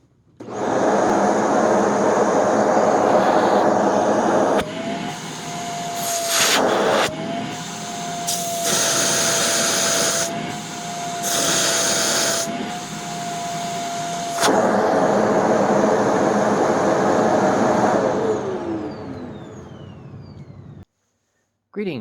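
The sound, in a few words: Shark Rotator XL NV90 vacuum running on suction test box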